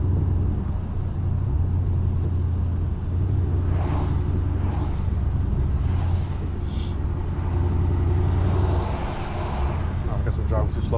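A supercharged Ford Mustang GT drives in the rain, its engine a steady low rumble inside the cabin with swishing passes of wet road noise, and a person talks over it.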